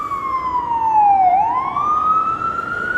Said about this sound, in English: The beautiful sounds of sirens.